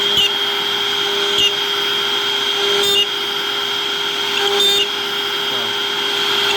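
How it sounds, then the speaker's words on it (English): A steady, loud machine whine with a sustained tone runs throughout as it punches pre-drill holes for a kit, with a few brief surges in intensity as it works through material. "we're punching all the pre-drill holes to put the kit together"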